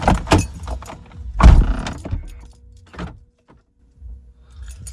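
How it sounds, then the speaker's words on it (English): Mercedes S-Class being switched off and on with the key: a jangle of keys and clicks inside the car, followed by a few short mechanical thuds, then near quiet with faint cabin hum. "Okay, so cycle of ignition."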